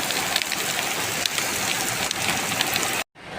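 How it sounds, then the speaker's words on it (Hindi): Heavy rain pours down hard on a rainy morning in Abu Dhabi. It makes a loud, dense, unbroken hiss with scattered drip ticks, and then drops out abruptly near the end. "बहुत ही स्पीड के साथ बारिश हो रही है।"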